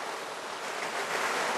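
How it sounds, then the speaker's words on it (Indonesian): A small waterfall of naturally hot spring water at the Cangar hot springs in Batu pours steadily in a continuous broadband rush, close and even, with no voices. "Ini saya menemukan satu spot di mana ada air terjun kecil."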